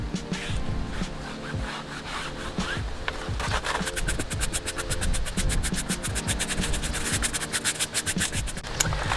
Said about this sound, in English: I'll get a bristle brush and I'll just brush those off